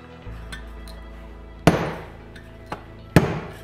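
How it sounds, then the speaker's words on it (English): A hammer strikes a center punch on a copper plate to mark hole positions for a heat sink, two sharp metallic taps ringing close and loud, with a lighter tap between them. "Take a center punch and a hammer and mark out the holes in your heat sink."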